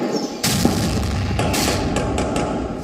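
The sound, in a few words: gunfire and explosions during police encounter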